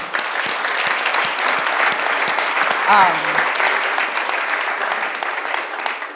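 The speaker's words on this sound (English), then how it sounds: "So big round of applause for those people." An audience at a fundraising talk applauds with dense, sustained clapping that holds steady for several seconds before thinning slightly, with a brief voice or whoop partway through.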